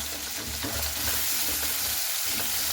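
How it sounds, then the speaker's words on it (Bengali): Chopped onions fry in hot oil for a Bengali fish curry, a close, dense crackling sizzle with occasional stirring scrapes and no speech. "ভালো মতো করে কিন্তু আমি পেঁয়াজগুলোকে ভেজে নেব লাল লাল করে।"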